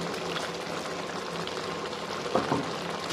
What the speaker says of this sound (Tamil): லைட்டாக தண்ணி ஊற்றிக்கோங்க.